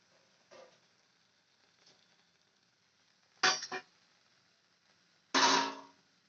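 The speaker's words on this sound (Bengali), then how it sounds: "এইভাবে লাল লাল করে সবগুলো আমি ভেজে নেব।" Pieces of paratha dough brushed with flour-and-oil batter deep-fry in hot oil until red, giving a faint steady sizzle that swells into two loud, sharp crackling bursts near the end.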